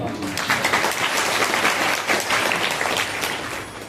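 An audience at a Hindu religious discourse claps loudly and continuously, a dense, close wash of hands beating throughout.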